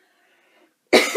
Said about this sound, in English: I've still got a bit of a cough that's just hanging around after this cold